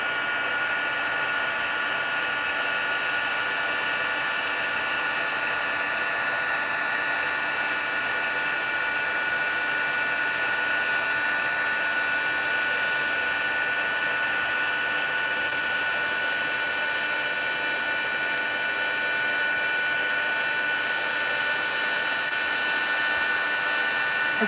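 A craft heat tool blows hot air in one continuous steady whine, a loud close fan roar with a bright tonal hum that holds unchanged throughout.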